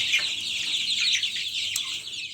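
Young chicks around a homemade feeder, a dense stream of high peeping and soft clucking close by, with no talk.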